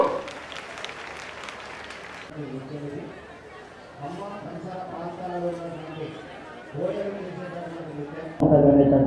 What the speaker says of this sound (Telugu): సాంస్కృతిక సాంప్రదాయానికి చప్పట్లు కొట్టి స్వాగతిద్దాం